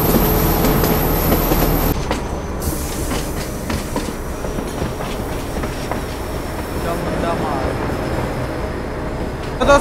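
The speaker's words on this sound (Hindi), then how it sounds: "नूरपुर रोड से 92 किलोमीटर का डिस्टेंस हमारी टॉय ट्रेन ने कवर कर लिया और पहुंच चुकी है चामुंडा मार्ग में" Kangra Valley toy train running on the narrow-gauge railway, a steady rumble of wheels and carriage noise throughout, heard from onboard with a faint whine early on.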